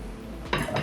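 A metal spoon scoops zucchini muffin batter into a muffin tin, giving two brief, close clinks against the pan over a quiet kitchen background.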